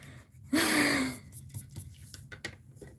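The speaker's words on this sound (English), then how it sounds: "Don't mind me if I'm like breathing too hard." One loud, sharp gasp of breath, close to the microphone, followed by quieter breathing and faint rustling.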